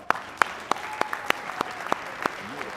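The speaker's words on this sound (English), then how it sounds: "Give him a round of applause." Scattered hand claps at a luncheon, a small audience clapping in sparse, distinct strikes roughly every third of a second, moderately close and fairly quiet.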